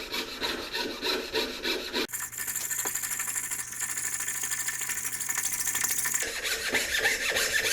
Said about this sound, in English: it'll saw its way around a circle or in a single spot